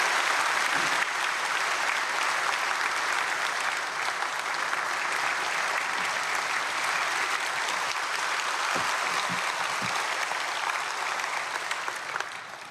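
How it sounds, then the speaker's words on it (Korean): A large church congregation at an early-morning prayer service applauds steadily for several seconds, the clapping sustained and full before tapering off at the end. "박수로 맞이하겠습니다."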